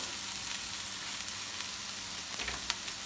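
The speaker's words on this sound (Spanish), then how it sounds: "Se sofríe todo bien, vamos a subir el fuego un poco más, sofreímos todo" Carrots and vegetables sauté over raised heat in a pan for a vegan gazpacho manchego, a steady close crackling sizzle with scattered pops and no voices.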